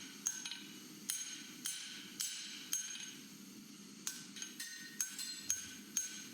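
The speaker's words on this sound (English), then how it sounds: "I need to hammer the end of the bar to straighten it" A hammer strikes the end of a hot steel bar being forged into a bottle opener, giving about a dozen sharp, ringing blows at a fairly steady pace, somewhat faint and distant.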